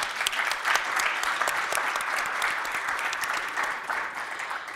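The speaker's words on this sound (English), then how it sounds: "So I'd like you to give a round of applause to yourselves" Audience at a City Club forum breaks into steady, sustained applause, a dense even patter of many hands clapping throughout with no voices standing out.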